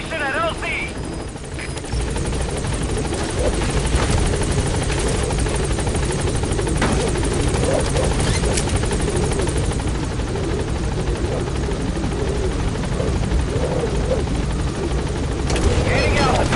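A video game helicopter called Pequod arrives at a landing zone, its loud rotor chop steady and close throughout, with a radio voice speaking over it.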